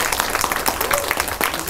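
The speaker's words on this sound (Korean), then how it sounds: "뜨거운 손뼉 부탁드립니다" Lecture-hall audience giving warm applause after a university humanities lecture, dense steady clapping from many hands throughout, close and loud.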